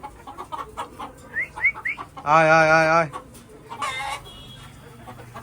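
Hens cluck close by on a poultry farm, with one drawn-out, loud cackle in the middle, while a person repeatedly calls out to them.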